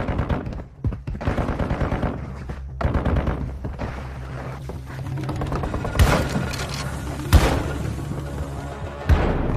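Gunfire in Warzone Mobile, from a Ghost Magmaflow shotgun among other weapons: bursts of shots and several heavy, separate blasts over a busy battlefield, with voices now and then.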